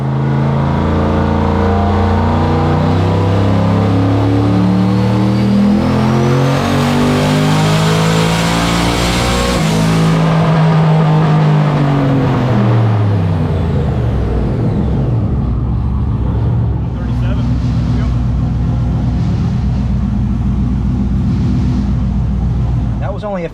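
A turbocharged aluminum 5.3-liter LS engine in an OBS Z71 truck pulls hard on a dyno, the loud engine note climbing steadily, peaking, then dropping off with turbo whistle and fading exhaust. Voices talk over it.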